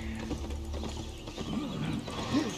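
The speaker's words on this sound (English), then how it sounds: "the longer you are on the horse, the faster he starts running" Hooves clop in a quick, rhythmic gallop as a horse runs in Albion Online, close and steady alongside soft mechanical rattling.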